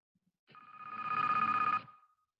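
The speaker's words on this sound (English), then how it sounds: "That is the phone that rings on Deal or No Deal." The Deal or No Deal banker's phone ringing, a single electronic trilling ring about a second and a half long, rising then fading, heard alone in quiet.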